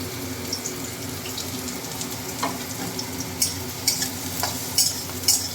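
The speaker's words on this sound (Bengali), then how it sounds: "পেঁয়াজটাকে লাল লাল করে ভেজে নিতে হবে" Chopped onions frying in a pan for dal tadka with egg, giving a steady low sizzle with scattered stirring clinks and scrapes, and no talking.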